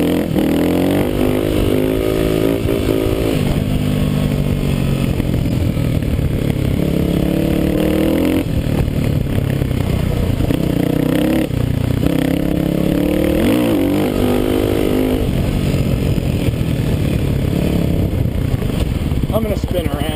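A Kawasaki KLX250S dirt bike engine revs and drones loudly during a lean-back wheelie, rising and falling in pitch with wind buffeting, close and continuous.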